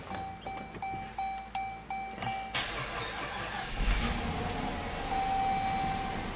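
A car starts up: repeated ignition chimes and rhythmic clicks are followed by the starter cranking and the engine catching, then settling into a steady, close idle.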